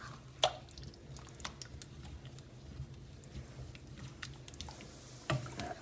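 A sweet potato and chickpea curry is stirred in a pot, making faint, sporadic wet squelches and soft clicks at close range.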